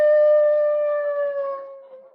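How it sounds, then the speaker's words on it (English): A radio show sound effect of a wolf howl: a single long, steady, tonal howl, loud and clear, slowly sliding lower and fading over about two seconds, with no talk over it. "Costello, that sounded like a wolf."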